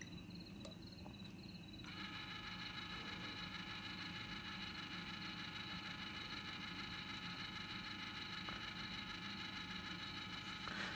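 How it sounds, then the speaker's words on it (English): A motorized modulating valve on a Nest thermostat setup, driven through an air adapter, hums steadily as its motor turns the valve closed, a continuous close mechanical drone that shifts slightly in tone after a couple of seconds. "The Nest thermostat stops cooling and the valve will be closed."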